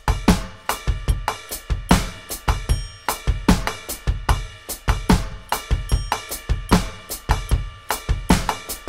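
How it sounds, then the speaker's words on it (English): A drum groove with the ride cymbal struck in a dotted-eighth pattern over kick and snare, steady and loud, heard alone with no talking across the bars. "the dotted eighth note on the ride sounds like this."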